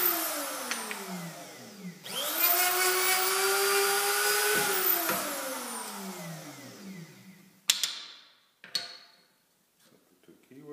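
A Hoffmann X20 dovetail routing machine cuts into sample molding, a loud steady motor whine rising as the bit bites the wood, then winding down, followed by a few sharp clunks and a brief second burst.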